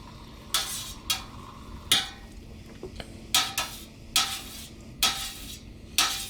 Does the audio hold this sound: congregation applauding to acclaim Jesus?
no